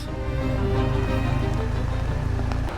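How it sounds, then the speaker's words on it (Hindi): Hail and heavy rain pound down during a motorcycle trip, making a dense, steady, loud drumming hiss with no break, while a low engine-like hum runs underneath. "भाई ये तो हेल पड़ रही है बारिश के साथ साथ।"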